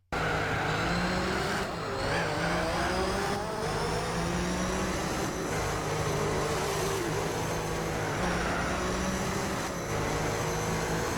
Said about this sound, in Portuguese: E começando com um dos melhores simuladores de corrida de todos os tempos, Gran Turismo 4